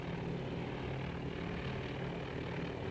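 Steady, droning propeller engine of a dive bomber aircraft in the naval combat game Task Force Admiral, a continuous loud hum with no breaks and no voices.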